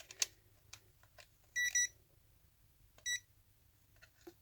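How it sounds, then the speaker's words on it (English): A multimeter on continuity mode gives two short, clear electronic beeps during a repair of a vintage Tandy Radio Shack Arcade 12 handheld game, with faint clicks and handling noise between them. "I'll just verify that that's actually cut by using the continuity on the meter."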